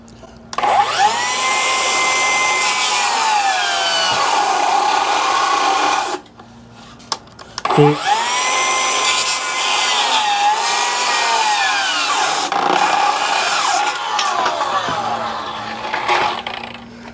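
Cordless circular saw, a DeWalt 60V or Milwaukee M18, ripping through wood in two long loud passes, each a sustained whining motor under cutting load that spins up, holds steady for several seconds, then winds down.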